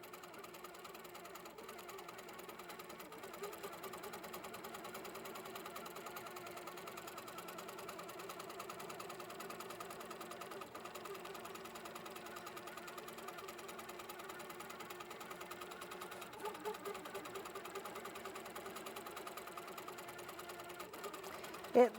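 An HQ longarm quilting machine guided by a Pro-Stitcher Classic stitches a quilt pattern, giving a faint, steady, rapid mechanical hum and patter that runs evenly throughout with little change.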